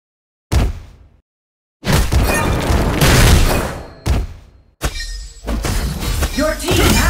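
Turret destroyed in the mobile battle game Legend of Ace during a ranked match, a sharp shattering crash and booming burst followed by dense layered impacts and crackling effects, loud and close, with brief game announcer voice lines.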